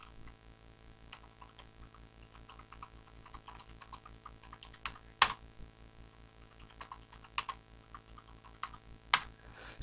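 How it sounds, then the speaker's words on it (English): Steady typing on a computer keyboard, with fast irregular key clicks running throughout and a couple of sharper, louder strikes near the middle and end, heard close up with no talking. "So now you can type whatever I want to type in it"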